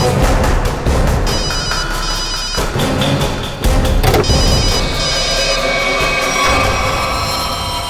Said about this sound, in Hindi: रिंग तो बज रही है।